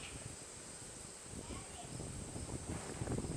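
Gusty wind buffeting the microphone outdoors during a front brake job on a 2005 Toyota Highlander FWD, a faint rumbling whoosh that swells and fades behind a steady high hiss.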